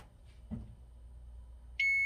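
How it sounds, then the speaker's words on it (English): A kitchen timer goes off in a quiet kitchen during a no-bake fruit crisp recipe, giving one sharp, loud electronic beep right at the end after a few soft handling thumps. "the timer's going to go off here"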